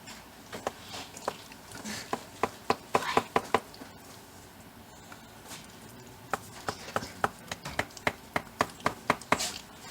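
A spatula slicing through a finished homemade western lasagna in a pan, giving a series of sharp, close taps and scrapes in uneven bursts, with quieter stretches between.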